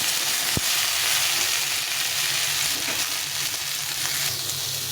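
Pointed gourd and ridge gourd sizzle steadily in a pan, a continuous close frying hiss with a single sharp tap near the start and faint stirring scrapes, no voices.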